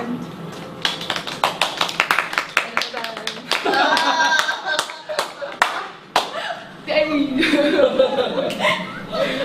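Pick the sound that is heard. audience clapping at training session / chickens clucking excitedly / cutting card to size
audience clapping at training session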